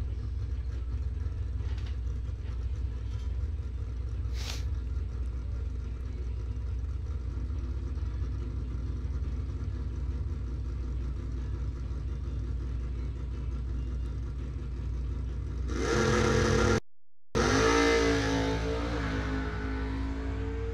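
A 1986 Monte Carlo drag car, NHRA legal with an automatic transmission, rumbles low and steady at a dragway, then erupts into a loud, close roar with climbing pitch as it launches near the end.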